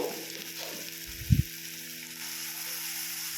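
Onion paste sizzles in hot oil for a chital fish curry, a steady hiss with a faint hum underneath and a brief dull knock partway through.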